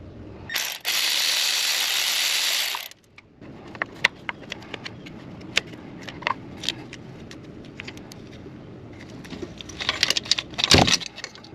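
Taking out a 10mm bolt from the crankshaft position sensor on a Kia Soul: a short buzzing burst of ratcheting, then many sharp metallic clicks and clatters from tools and parts nearby.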